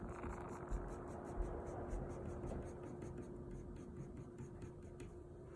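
Pencil drawing small eyebrow hairs on paper, a soft continuous scratchy scraping with short strokes, close and quiet over a steady background hum.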